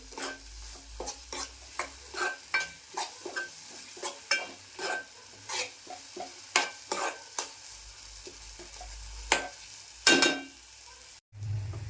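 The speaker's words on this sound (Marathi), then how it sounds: "ग्रेव्हीमध्ये असं परतून घेते असं व्यवस्थित परतून घ्यायचं जरा दोन तीन मिनिट" Malvani masala paste (vatan) is sautéed in gravy for a Kudal-style prawn masala: a steady run of about twenty rhythmic spoon strokes scraping the pan over a low sizzle, close and clear, with a louder final scrape and no talk.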